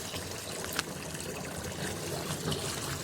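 Clean water pours into a tub for rinsing laundry, a steady close splashing trickle that runs continuously, with no talking.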